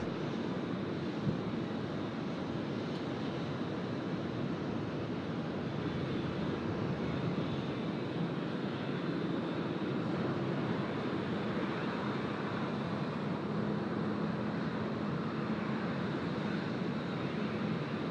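An Emirates airliner takes off at Sydney Airport, a steady broadband jet roar heard from a distance, faint and unbroken throughout with wind-like texture; no talk.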